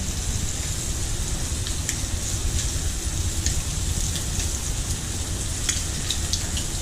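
Bacon strips frying on a hot flat grill for an Aussie burger, giving a steady, dense crackling sizzle that stays close and even throughout, with no talking over it.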